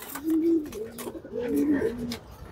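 A female racing pigeon coos close by in two throaty, rolling phrases, loud and clear, with only faint background noise.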